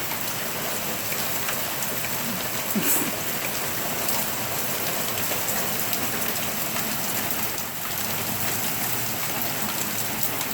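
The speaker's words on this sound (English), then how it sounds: "This rain is coming before the snow in October." Heavy October rain pours down in New York ahead of snow, a dense, steady hiss of drops hitting surfaces that stays constant and fairly close, with no voices over it.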